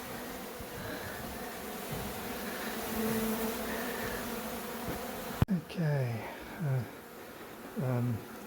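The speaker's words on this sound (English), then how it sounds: "lots of honeyed bees." Honey bees buzz in a dense, steady drone while a hive is being relocated, with a sharp knock partway through and a person speaking briefly afterwards.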